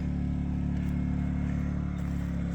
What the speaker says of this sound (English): So we got the generator running right now.